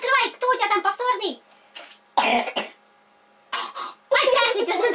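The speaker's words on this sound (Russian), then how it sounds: "Ой, кашляет, он выздоравливает." A child coughs a few times in short bursts, with a lively young voice talking around the coughs and brief quiet gaps between.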